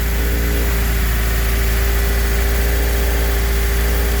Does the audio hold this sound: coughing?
no